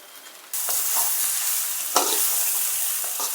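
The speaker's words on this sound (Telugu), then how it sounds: "అంత ఉప్పు పసుపు కలిసేలాగా ఇలా కలుపుకుంటూ ఫ్రై చేయాలి" Drumstick leaves with salt and turmeric are stirred and fried in a pan: a sudden bright sizzle starts partway in and holds steady, broken by scraping strokes of the spoon, with no talking.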